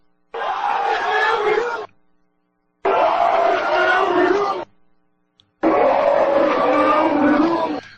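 A large political rally crowd chanting, played backwards, comes as three loud, swelling bursts of massed voices, each about two seconds long and separated by near silence, sounding strange and roar-like when reversed.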